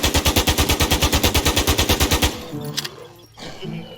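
Rapid automatic gunfire in the zombie survival shooter Infestation NewZ, a loud steady stream of about twenty evenly spaced shots that stops abruptly, followed by quieter game noise.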